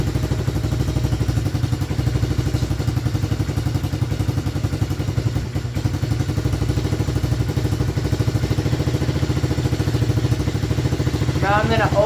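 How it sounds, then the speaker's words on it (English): A 110cc pit bike engine idles steadily just after a cold start, its quick, even putter running loud and close throughout with no talk over it. "let go of the choke, and let it hold the throttle for a little bit"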